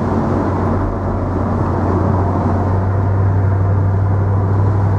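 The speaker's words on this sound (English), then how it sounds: "Nice little run over Lincolnshire Wolds on a nice summer's day in an SL55 AMG" A 2003 Mercedes SL55 AMG convertible cruises along Lincolnshire Wolds roads on a summer day, its V8 giving a steady low engine drone mixed with wind and road rush.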